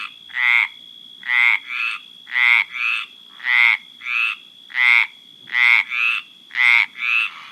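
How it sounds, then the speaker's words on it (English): A frog croaks in a steady repeating rhythm of about a dozen loud, close, rasping calls, often in pairs, over a faint low hum with no talk. "Frog."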